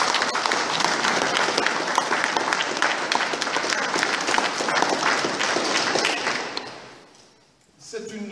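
An audience at an exhibition inauguration for a 14-18 commemoration in Erezée applauds warmly, dense sustained clapping filling the room for several seconds before fading out, followed by the start of a voice.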